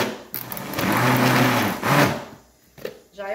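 An electric mixer beats homemade cake batter with chemical baking powder, its motor whirring loudly in a steady, pitched drone for about a second and a half before switching off, followed by a few faint clatters.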